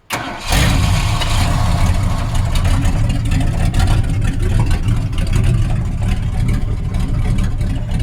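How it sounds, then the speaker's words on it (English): Ford engine with a straight pipe exhaust cranking, catching and settling into a loud, rumbling idle right next to the microphone, steady and unbroken after the start. "Don't rev it, just start it."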